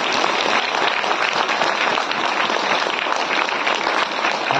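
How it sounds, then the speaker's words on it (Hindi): A congregation at a Christmas manger worship service claps continuously for several seconds. The applause is a dense, even rattle of many hands, with no voices over it. "चार ताली बजा देला।"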